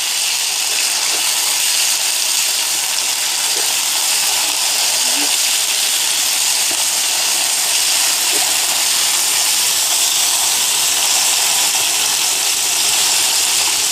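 Marinated mutton dropped into a pan of frying garlic, giving a loud, continuous hiss and sizzle that holds steady and close throughout.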